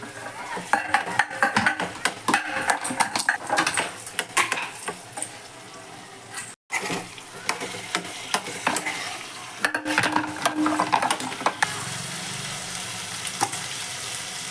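Chopped tomato and ginger paste go into a hot pan of brinjal-tomato curry, sizzling and frying steadily while a spoon stirs and scrapes against the pan, loud and close, with a brief silent break midway.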